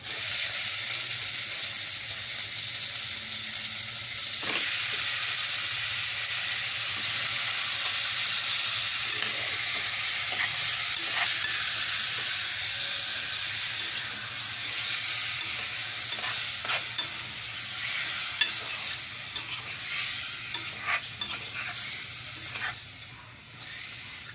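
Chicken pieces fry in a pot of sautéed aromatics for Filipino tinola. A loud, continuous close-up sizzle holds for the whole stretch, with occasional clinks and scrapes from stirring and no talking.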